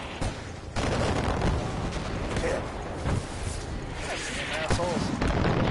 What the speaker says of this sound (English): Run from the mortars!